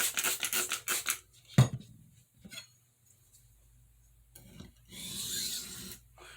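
Santoku knife being sharpened on a fine India stone, a few short rasping strokes of steel on stone with a sharp scrape, then quiet gaps and a longer softer rub, close and fairly faint.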